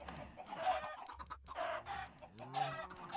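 Chickens in the video game Minecraft cluck in short repeated bursts, loud and close, with a few pauses between the calls and no talk over them.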